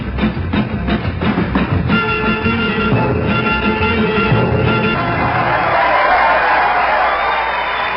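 A recording from 1965 radio airplay, loud full band music with rhythmic accents early and a swelling, brighter brass-led passage toward the end, no talking.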